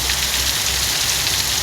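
Steady rain falls near a window in a continuous dense patter, a close, even hiss of drops hitting the surface, with no thunder and no voices.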